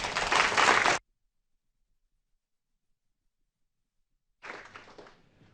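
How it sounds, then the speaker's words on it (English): Audience applause after a scientific lightning talk, a short burst of loud clapping that cuts off abruptly, followed by silence and then a softer second round of clapping. "A round of applause to all of the speakers"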